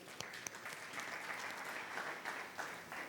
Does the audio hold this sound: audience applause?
yes